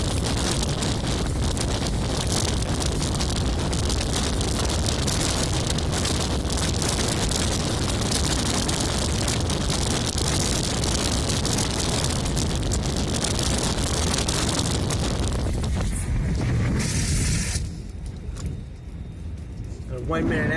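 Hurricane-force nor'easter winds with gusts above 90 mph roar and buffet a microphone in Wellfleet on Cape Cod, Massachusetts, a loud, continuous rushing wall of noise that drops away abruptly near the end.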